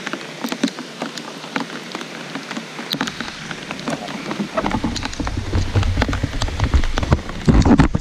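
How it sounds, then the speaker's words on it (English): Heavy downpour drumming steadily on surfaces outdoors during a kayaking trip in Pennsylvania, dense close patter that grows louder and fuller partway through, with scattered heavier drops and no talk. "currently downpouring right now."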